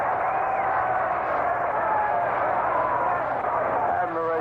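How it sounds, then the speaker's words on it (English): A baseball stadium crowd at a Dodgers at Mets game murmurs and cheers in a broad, steady roar after a fan's catch in the stands, with continuous talk throughout. "Crowd reaction to a catch up in the stand."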